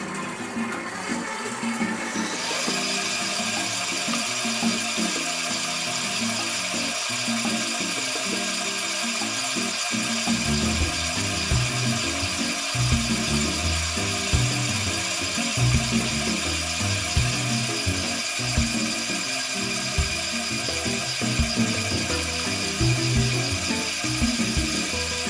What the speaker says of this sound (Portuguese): Volto a massa para a batedeira.